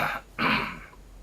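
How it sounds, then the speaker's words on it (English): Throat clearing and a short cough from someone with a cold, two close raspy bursts with the second louder and longer, heard alone with no talk. "I'm fucking clearing my throat all the time. And coughing."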